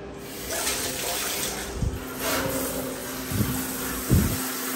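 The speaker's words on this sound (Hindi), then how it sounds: "ओ भाई शावर बंद कर देता हूँ" A bathroom shower runs with a steady close hiss of falling water, broken by a few louder splashes and knocks.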